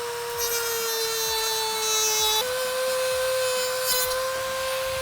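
A power tool cuts through a plastic intake tube while fitting a K&N Blackhawk cold air intake, a steady high whine that drops slightly in pitch midway over a low rhythmic grinding, loud and close with no talk.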